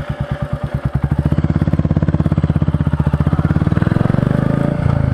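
A Royal Enfield Meteor 350 motorcycle's exhaust thumps in a steady, close-up rhythm at idle, then rises in pitch and loudness as the rider opens the throttle near the end.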